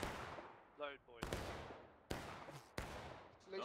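Musket volleys ring out on command in the Civil War game War of Rights, three sharp broadband cracks spaced about a second apart with booming tails, separated by brief snatches of talk.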